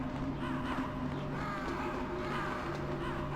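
Crows caw repeatedly in Metal Gear Solid, harsh overlapping calls from several birds over a steady droning game background, with some speech-like sound faintly mixed in.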